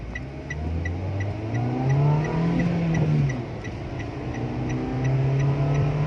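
A 2019 Toyota Agya G with manual gearbox accelerating from a standstill: steady engine drone rising in pitch, easing off, then pulling again, heard from inside the car with no talking.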